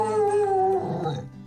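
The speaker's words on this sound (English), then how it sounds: "he tends to walk around with his toys in his mouth trying to bark" A French mastiff with a toy in its mouth gives a muffled, strained howling bark, one drawn-out close vocal that wavers and fades within about a second and a half, heard alone.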